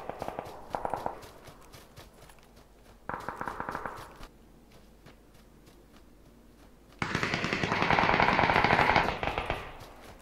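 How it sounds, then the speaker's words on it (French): Bursts of rapid gunfire crackle in short volleys in the video game PUBG on the Savage map, then a longer, louder stretch of sustained automatic fire, with quiet gaps in between. "Je suis un fou, je me dirige vers les coups de feu."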